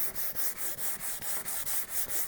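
240-grit sandpaper rubs by hand over a car headlight in quick, even back-and-forth strokes, about a dozen rasping passes in a steady rhythm, close up with no talking.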